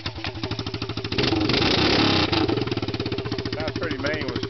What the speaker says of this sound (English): that's pretty mean with straight exhaust